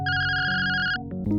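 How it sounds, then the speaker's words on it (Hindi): A telephone ringtone plays loud and close, a steady electronic tone sustained for about a second before breaking into shorter notes, with no voices. "लेकिन तभी उसके मालिक का फोन आ जाता है।"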